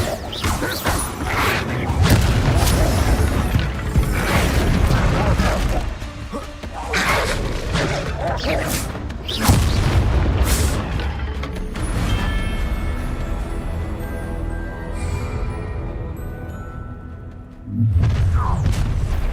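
Bombarda explosion spells blasting in Hogwarts Legacy gameplay, heavy booms and crashing impacts repeating loudly over a dense mix of game sound, with a voice speaking at times.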